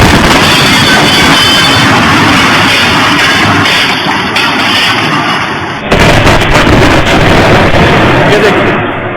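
A loud, sustained bomb blast roar in Nowgam, Jammu and Kashmir, near a police station, fills the clip with dense rumbling noise, shifting abruptly partway through as debris and crackling of shattered windows continue.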